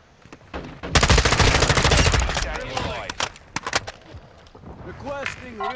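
Automatic gunfire in Call of Duty: Modern Warfare II, a dense burst of loud rapid shots followed by scattered single cracks and faint voices from the game.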